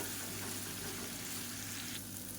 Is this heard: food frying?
yes